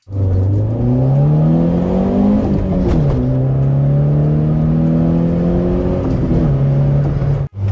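A Peugeot 206 S16 with a 135-horsepower engine revs steadily and loudly up close, pitch climbing and dipping through several sustained pulls as the tyres are warmed, cutting off abruptly near the end.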